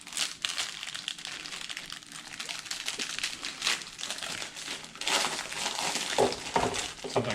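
A plastic snack bag crinkles and rustles steadily as daily snacks are packed for a hunting trip. The handling is close and continuous, with louder crunches near the end.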